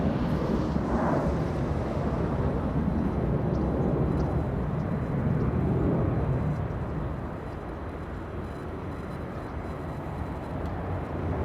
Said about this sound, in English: And we have the big China Eastern flying to Shanghai, leaving via runway 25 right in the south side.